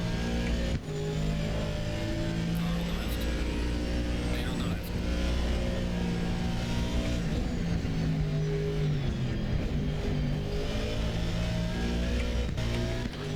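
Race car engines in the Assetto Corsa Competizione racing game, including a Lamborghini, drone and rev steadily throughout with shifting pitch, close and loud, with talk over them.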